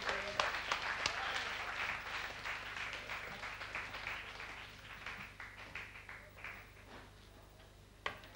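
Audience applause at a live concert in Folken, Stavanger, 1991: a steady mass of clapping that gradually thins and fades, with a sharp isolated clap near the end.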